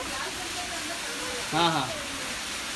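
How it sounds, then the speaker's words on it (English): Rain falls outdoors as a steady, faint broadband hiss throughout, while a person briefly murmurs over it. "Look at that rain."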